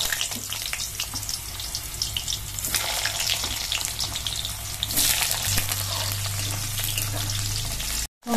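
Potato pieces sizzle and crackle in hot oil with dried red chilli, bay leaf and whole cumin, a dense close frying hiss that swells as the potatoes go in, then cuts off abruptly near the end.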